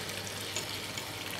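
Food frying in a pan while being stirred slowly during preparation of pain perdu, giving a steady, close, even sizzle with soft scraping and no voices.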